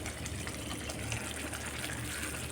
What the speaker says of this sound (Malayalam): ഇനി ഇതിലേക്ക് നമ്മുടെ തെൻപാൽ, അതായത് ആദ്യത്തെ തെൻപാൽ ഞാൻ ഒഴിക്കുകയാണ്.